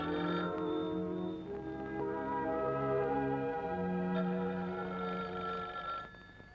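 Telephone bell ringing steadily with a dense harmonic tone in an indoor office setting from a Turkish film, continuous and fairly loud throughout with no talk over it.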